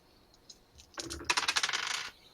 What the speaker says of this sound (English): So many dice.